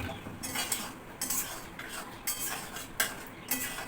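Pointed gourd (potol) goes into a spiced pan and is stirred, with a metal spoon scraping and clinking against the pan in quick, irregular strokes, close and fairly quiet, with no talk.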